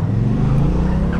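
A Honda Hornet 750 motorcycle on a racing track, its engine a loud, close, steady roar in one brief burst.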